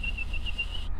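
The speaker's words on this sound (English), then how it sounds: "I don't think there's quite as much whistle on this one as what there was on the other 1050, the DE." Whine from a 2023 Suzuki V-Strom 1050 motorcycle engine: a steady high whistle with a slight pulsing waver over a low rumble, continuous for about a second.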